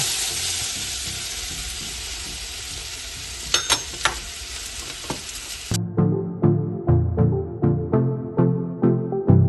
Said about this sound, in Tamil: இதோட செத்தல் மிளகாய், பெருஞ்சீரகம், கடுகு போட்டு நல்லா வதக்கிட்டோம்.